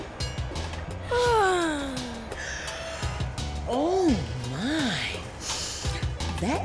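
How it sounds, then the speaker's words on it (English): An animated train character in a children's cartoon lets out a long, drawn-out yawn with a falling pitch, followed by further wavering vocal sounds over background music. "That yawn is contagious."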